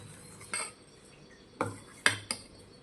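A spoon stirs green moong dosa batter in a bowl, giving four sharp, quiet clinks against the side at uneven intervals over a faint background.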